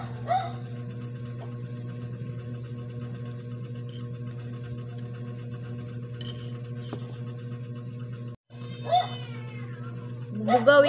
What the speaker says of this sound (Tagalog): Uy, maingay yung pusa,